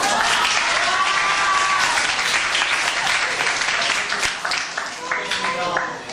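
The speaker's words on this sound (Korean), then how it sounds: "저 친구를 위해서 박수 한번 주세요. 박수." An audience of students applauds steadily in a school lecture, a dense patter of many hands clapping that fills the space, with some voices and cheers mixed in as it thins toward the end.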